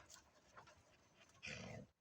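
A dog growls at close range, a low rough rumble building into a louder burst near the end of a quiet outdoor moment with faint background sound.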